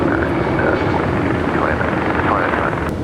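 An Alaska Airlines A320 jet takes off from a runway at LAX, its engines producing a loud, steady, broad roar that fills the whole moment without letting up.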